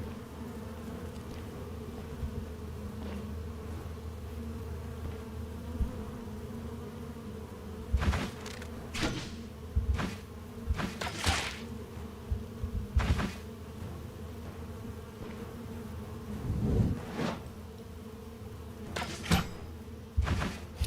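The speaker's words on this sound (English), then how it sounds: "Eat your own bees." A bee swarm buzzing in the Stoneshard video game, a steady insect drone under scattered sharp game sound effects and thumps, no talking.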